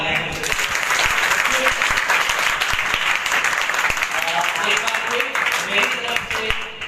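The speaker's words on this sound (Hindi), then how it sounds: "अपने लिए जोरदार तालियां" Audience applause fills a Sukkot (Feast of Tabernacles) gathering: dense, loud, continuous clapping from a crowd for several seconds, with voices faintly mixed in.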